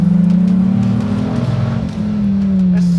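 Dodge Viper ACR sports car with a manual transmission, its aggressive engine revving hard and loud near the microphone, a raw sustained roar that rises and dips in pitch without any talk.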